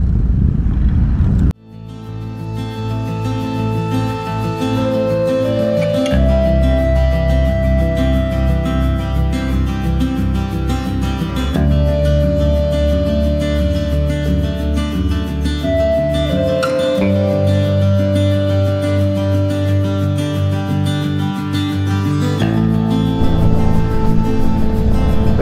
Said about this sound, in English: I think we're like 10 bikes out. Most of them are Harleys, and there's like three adventure bikes.